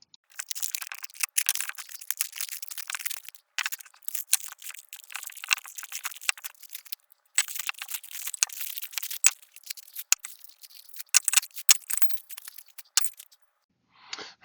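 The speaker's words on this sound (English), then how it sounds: "let me take this packaging off and we'll get started on that" Plastic packaging crinkles and tears as it is pulled off the parts of a stool, a continuous busy rustle with brief pauses, close and alone.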